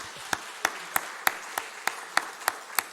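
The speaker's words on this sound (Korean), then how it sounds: "우리 박수로 축하해 주시죠" A church congregation claps in a steady, evenly spaced rhythm, sharp distinct claps about every third of a second, moderately close and without talk.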